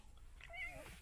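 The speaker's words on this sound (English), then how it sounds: "This is my kitty Blue." A pet cat gives a single close meow with a rising then falling pitch, about half a second long, against quiet room tone with no talking.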